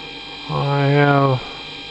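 A servo motor on a G0704 milling machine spins up with a rising-then-steady tonal whine for about a second over a constant electrical hum, then cuts off sharply.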